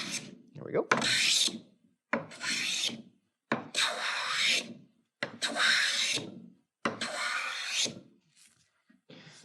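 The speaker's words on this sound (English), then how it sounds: "I'm going to take my jack plane and back it off for a very fine cut." A jack plane set for a very fine cut shaves a short, small wooden board in five rasping strokes with brief pauses between them, close and clear, with a short spoken phrase at the start.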